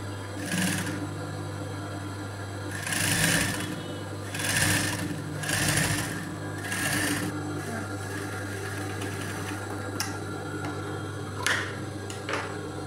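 A sewing machine runs in short stitching bursts while piping a blouse edge with thread, several runs of roughly a second each separated by pauses, with light handling clicks near the end and a steady low hum beneath.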